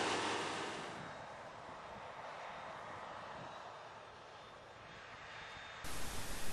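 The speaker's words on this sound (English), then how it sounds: "This 8-metre drill is being pulled by a 150 horsepower tractor." A 150-horsepower tractor pulling an 8-metre seed drill gives a steady, droning engine roar throughout, broad and rushing at constant load, with a brief louder swell near the end.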